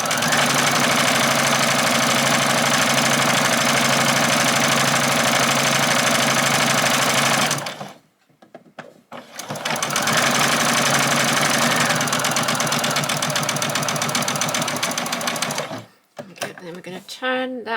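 A sewing machine back stitches bag fabric in two long, loud, steady runs with a brief break between, its needle chattering close up, then a few short stops and starts at the end.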